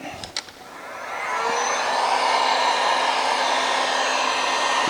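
A heat gun blows hot air steadily and loudly, starting after a few brief clicks and ramping up within the first second into a constant broadband whoosh that holds to the end.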